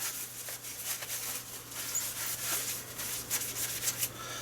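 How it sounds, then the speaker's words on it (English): A Sega Saturn game disc wiped clean with isopropanol, producing soft, continuous close-up rubbing strokes at a low, even level. "Clean the disc while I'm here."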